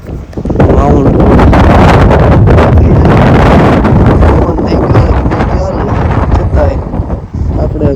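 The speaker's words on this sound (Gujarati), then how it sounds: "પવન બહુ ચાલુ થઈ ગયો છે" Strong wind gusts along a London street, loud buffeting roar hitting the microphone almost continuously, dipping briefly near the end.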